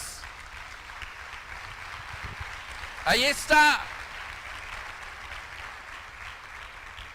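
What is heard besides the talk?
applause for the King of Kings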